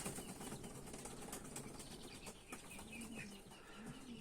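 Pigeons at a Ukrainian loft, including a yearling long-beaked hen, flap their wings in repeated soft bursts alongside cooing and scattered bird calls, faint and fairly close, with no talking.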